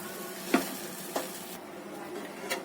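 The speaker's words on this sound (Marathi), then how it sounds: "आणि या खालच्या साईडने पण एक तीन मिनिट टोस्ट करून घेऊया" Sandwich bread toasts in a pan with a faint, steady sizzle, broken by a few soft clicks and scrapes of utensils against the pan, quiet and close.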